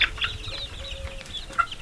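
A chicken clucks in short, soft bursts against a faint outdoor background.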